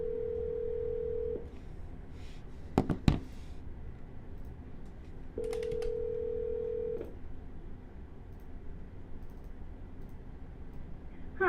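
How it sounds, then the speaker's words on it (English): Telephone being dialed for an outgoing call: two long steady ringback tones separated by a pause, with a short burst of clicks and beeps between them, quiet and alone. "Let me give him a ring."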